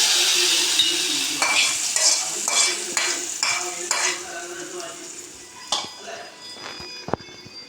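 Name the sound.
mustard seed tempering poured into mango curry, sizzling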